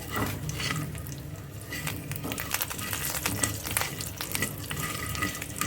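Mustard seeds and mint leaves crackling in hot oil, a busy close sizzle with scattered sharp pops and spits running steadily for several seconds, no talking.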